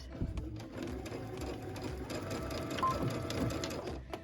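A sewing machine stitches pieced fabric for a tablet sleeve in a steady, continuous mechanical whir with a fast rhythmic needle chatter, close and moderately loud, with no speech.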